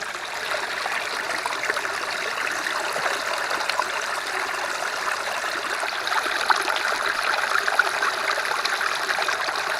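Stream water running off rocks and trickling into a container in the wilderness, a steady close splashing gurgle that holds even throughout with no voices.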